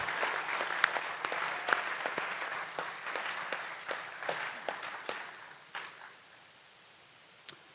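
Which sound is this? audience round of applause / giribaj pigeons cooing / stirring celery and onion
audience round of applause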